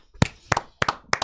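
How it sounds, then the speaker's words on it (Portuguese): A single person clapping about four times in a slow, uneven rhythm, each clap a close, sharp double slap, with quiet gaps between them. "uma salva de palmas para nossa amiga."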